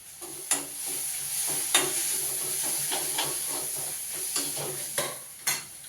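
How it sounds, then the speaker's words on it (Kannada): Soaked flattened rice (avalakki) goes into a hot pan of cooked okra palya for uppittu: a continuous close sizzle and hiss, punctuated by regular scraping clicks of a spoon against the pan. "ಅವಲಕ್ಕಿನ ಆ್ಯಡ್ ಮಾಡ್ತಾ ಇದ್ದೀನಿ"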